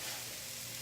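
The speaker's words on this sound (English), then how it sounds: "Okay, so I put my chicken in." Steady, loud sizzling of chicken frying in a hot pan, a continuous crackling hiss with no talking.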